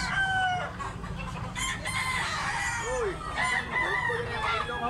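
A young stag rooster crows, with other roosters crowing and clucking nearby in a busy poultry-selling setting, several overlapping calls over low background noise and a faint voice.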